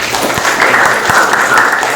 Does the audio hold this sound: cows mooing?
no